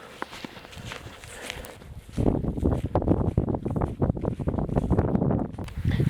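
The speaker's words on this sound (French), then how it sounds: "Et là il y a un peu plus de vent." Wind gusts on an islet beach, first faint and then strongly buffeting the microphone in a steady roar for the rest of the clip.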